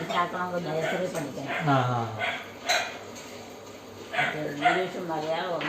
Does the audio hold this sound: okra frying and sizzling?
no